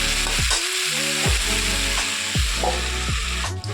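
Mixed vegetables for a vegetarian Bengali dish sizzle steadily in a covered pan, with repeated loud scraping strokes of a spatula stirring them at a slow, regular rhythm.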